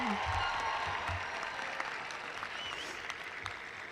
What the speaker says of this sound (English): let's have another round of applause for the class of 2021